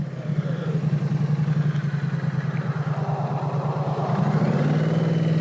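Triumph Street Cup motorcycle engine heard while riding and downshifting, a steady loud near low rumble with pulsing exhaust note that shifts pitch toward the end as revs change, no talk.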